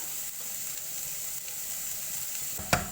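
Bitter gourd sautéing in coconut oil, a steady hissing sizzle close by with one brief stirring scrape near the end and no talking.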